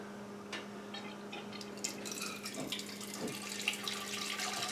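Liquid trickling and splashing as lager wort drains into a vessel during vorlauf, a soft steady pour with occasional drips over a low hum.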